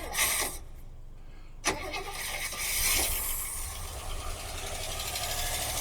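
Old car that sat for over 25 years cranking and catching, then idling with a loud steady rattle, the engine running close and continuous after a brief start-up burst.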